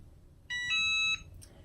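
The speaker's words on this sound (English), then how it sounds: "Once your heat press has reached the desired temperature, you're going to hear that beep" A Cricut heat press gives a clear electronic beep on reaching temperature: one short tone stepping into a longer, louder sustained beep lasting about half a second, over faint room hum with no talk.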